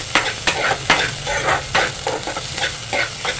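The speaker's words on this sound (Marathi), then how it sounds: "आता गॅस फास्ट करून कांदा चांगला परतून घेते" Chopped onion sizzles and fries in a pan on a gas stove turned up high, with repeated scraping strokes of a spatula stirring it, close and steady, no talking.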